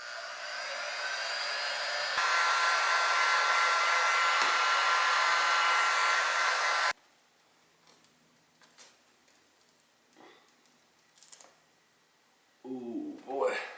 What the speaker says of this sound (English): So we come in with the heat gun.